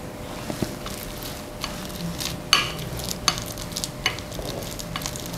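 Banana is mashed and pressed in a bowl with a kitchen utensil, giving soft squishing and scraping sounds with occasional light clinks, close up and steady.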